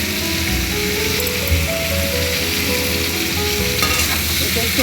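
A homestyle radish curry with beans, potato and eggplant, seasoned with salt and turmeric, fries in a pan while being stirred, giving a loud, steady sizzle with scraping strokes throughout.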